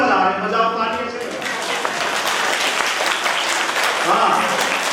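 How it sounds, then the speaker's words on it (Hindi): Applause from a crowd at a national Arya youth council foundation-day gathering swells into a dense, steady roar of clapping that fills the clip, with a voice briefly over the opening moment. "बजाओ तालियों से।"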